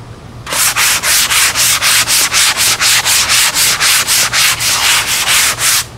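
Hand sanding an RC airliner wing (Emirates 777-9X model) with 80 grit sandpaper: steady rhythmic back-and-forth rasping strokes, about fifteen in quick succession, close and loud with no talking.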